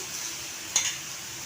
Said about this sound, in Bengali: এগুলো একটু ভাজা ভাজা করে নিই